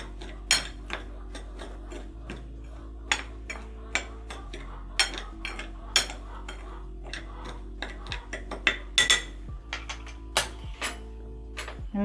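Seasoned breadcrumbs with black pepper and salt stirred by hand in a dish for potato croquettes: repeated close metallic taps and scrapes of a utensil against the bowl, irregular and fairly crisp, with no talk.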